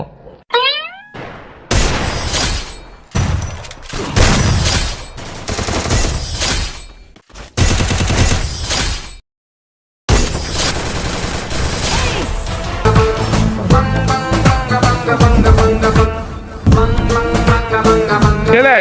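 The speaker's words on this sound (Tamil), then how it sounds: "ஃப்ரீ ஃபயர் சவுண்டு எங்கேயும் கேட்கல, தோ இந்த பெட்ஷீட்டுக்குள்ளதான் கேக்கு" Gunfire from the Free Fire mobile game plays from a phone hidden under a bedsheet: loud bursts of rapid shots and booms, broken by brief pauses, then game music and effects.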